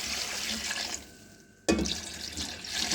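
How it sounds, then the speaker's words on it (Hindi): Yakhni broth pours into a pot of fried beef paya, a steady liquid splash that briefly drops away, then resumes strongly and keeps flowing. "तो अब जो मैंने यखनी इसकी निकाली थी वो मैं अब इसके अंदर ऐड"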